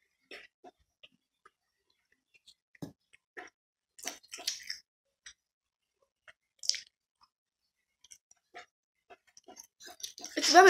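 Miller's donuts with caramel and white cream are chewed close to the mic in quiet surroundings: sparse soft bites and moist smacks separated by silence, growing louder at the very end.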